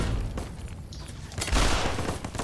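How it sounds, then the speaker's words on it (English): Grenade explosions in the video game Fallout New Vegas: loud, dense booming blasts rolling in bursts, with a heavier detonation about two-thirds through, close and without talk. "Stop throwing grenades at me, you turds"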